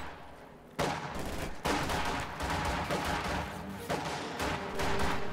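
Dense small-arms gunfire crackles through a video game battle, with bursts of rifle and machine-gun fire overlapping continuously and loudly, punctuated by sharper volleys and no pauses.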